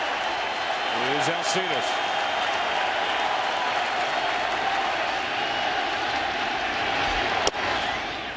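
A World Series crowd roars and cheers throughout in a baseball stadium during Game 4 between the Royals and the Mets, a dense sustained wash of noise with a broadcaster talking briefly over it.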